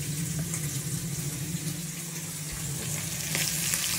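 Shrimp frying in a pan, a steady close sizzle with crackling pops, continuous and moderately loud with no talking.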